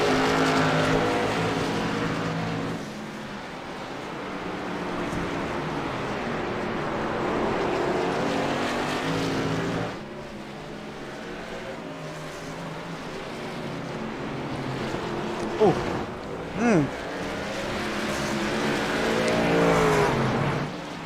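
Race trucks roaring around a track in a truck series event, engines loud and continuous with passing surges and revving, a brief dip near the middle and a few sharp bursts toward the end, no talking over it.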